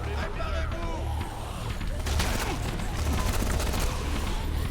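Gunfire from the zombie video game Dead Rising 3 rattles in dense overlapping bursts with a loud, steady game din, while a voice talks over parts of it.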